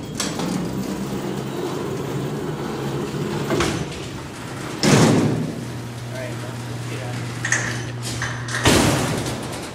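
A Montgomery freight elevator door at a Sears store in Santa Rosa Plaza mall opens with heavy rumbling and scraping and several loud thuds and clanks, over a steady mechanical hum.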